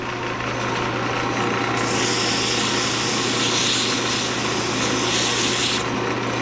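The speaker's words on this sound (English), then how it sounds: "Now you can up it up a little more since you're sanding." Continuous loud whirring hum of a spinning lathe with a rough abrasive rubbing noise of a wooden pen blank being sanded that swells partway through, then eases back.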